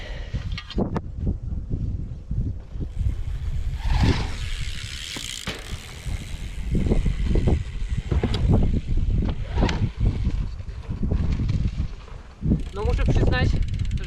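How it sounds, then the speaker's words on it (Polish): Strong headwind gusts buffet the microphone in uneven bursts outdoors in a garden, rumbling loudly throughout, with faint talk in between. "Wie wiatr prosto w twarz"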